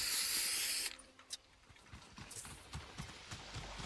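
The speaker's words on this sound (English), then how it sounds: "Time to spray paint their house." A spray can hisses in the Fortnite video game while a house is spray painted, a loud steady hiss lasting about a second that cuts off abruptly, followed by faint footsteps and soft game sounds.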